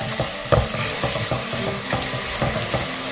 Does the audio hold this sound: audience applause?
no